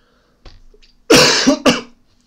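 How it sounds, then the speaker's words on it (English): A couple of soft throat sounds followed by two harsh, close coughs in quick succession, with no talking. "Apologies, I've got a bit of a cough."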